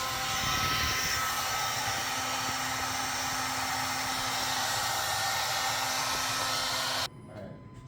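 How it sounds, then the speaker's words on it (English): A heat gun blows with a loud, steady whoosh close by for about seven seconds, then shuts off, leaving a quieter background with no speech. "Heat gun?"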